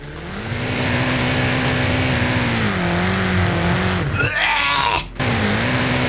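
A BMW M8 drifts in the racing game Forza Horizon 5, its engine droning steadily at high revs with pitch dips and tire squeal, and a brief break near the end; no voices.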